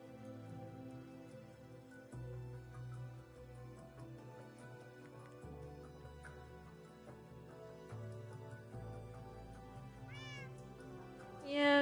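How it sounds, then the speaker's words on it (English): A cat meows in Minecraft, one short, faint mew arriving near the end over a steady bed of in-game music. "Did you hear the little Minecraft kitty meow?"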